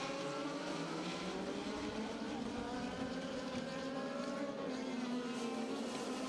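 Several race cars accelerate off the start of a race, car number 20 among them, producing a steady droning engine roar with rising and overlapping pitches, heard from a moderate distance with wind noise.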